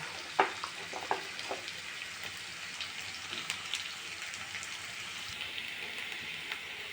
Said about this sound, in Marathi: यामध्येच आलं लसूण पेस्ट पण टाकून घ्यायचे आणि हिरवी मिरची सुद्धा